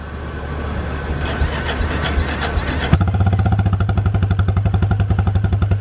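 A Ranger utility vehicle's engine cranks roughly and then catches, settling into a loud, close, steady idle with a fast, even putter that continues to the end.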